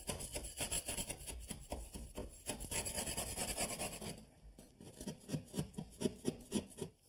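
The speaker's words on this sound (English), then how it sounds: "I'll start with this scraper." A hand scraper rasps repeatedly across a kitchen wall, stripping old mastic and plaster in a quick run of rough, close strokes, steadier at first, then in sharper separate scrapes near the end.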